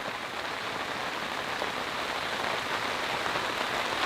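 Heavy rain pours steadily on a campsite with a cot tent in the rainforest, a dense, close, unbroken hiss of drops drumming on surfaces for the whole stretch.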